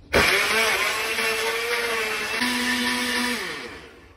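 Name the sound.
blender blending banana shake with fresh milk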